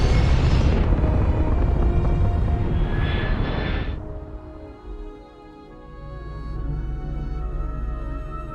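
Video game aircraft engine during takeoff: a loud, dense roar swelling for about four seconds, then cutting to a lower, steadier rumble that continues to the end.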